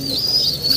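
Racing pigeon cooing softly and steadily, close by, a continuous low murmuring coo running through the short moment with a faint bird chirp above.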